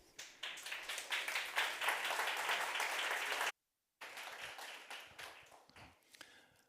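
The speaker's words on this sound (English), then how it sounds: "So please, a big applause for Hartmann Reichalter" Conference audience applause at a climate change governance event in the Dolomites, a dense burst of clapping that breaks off for a moment, then resumes more thinly and fades out.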